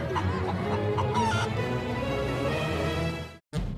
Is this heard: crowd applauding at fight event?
no